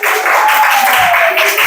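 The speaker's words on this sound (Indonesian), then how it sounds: "Tepuk tangan buat kelompok 1." Classroom audience applauding a student group, a steady burst of clapping throughout, fairly loud and close, with some voices underneath.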